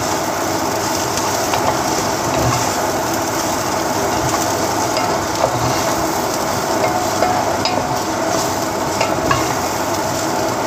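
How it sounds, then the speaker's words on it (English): Onions sizzle and crackle loudly and steadily in a pan as they caramelize for a lamb stew, with occasional scraping from stirring throughout. "my onion is being caramelized"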